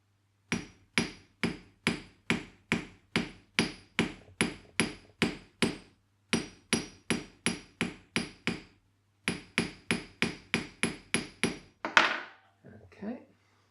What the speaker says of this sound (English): I can turn it closer to the sharp corner on the hammer